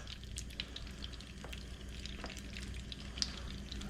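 Oyster mushrooms fry in butter in a pot, giving a steady, close crackling sizzle with scattered small pops and spits throughout, no voices over it.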